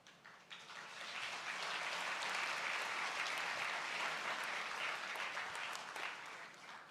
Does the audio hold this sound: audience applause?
yes